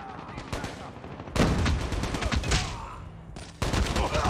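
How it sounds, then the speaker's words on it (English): Rapid sniper and automatic gunfire in a Call of Duty Mobile hardpoint match, loud bursts of shots and impacts coming in overlapping volleys, with a sharp cluster near the start and heavy fire throughout. "There's a guy sniping on my left."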